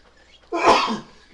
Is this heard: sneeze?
yes